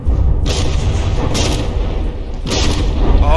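Distant-sounding artillery shells from battleship guns explode in the naval combat game From the Depths, three heavy booms about a second apart, each with a broad crackling burst, over a constant low rumble of battle.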